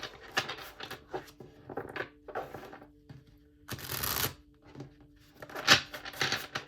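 Tarot cards are shuffled by hand in quick bursts of riffling and soft slaps, close and fairly quiet, with short pauses between shuffles and no talking.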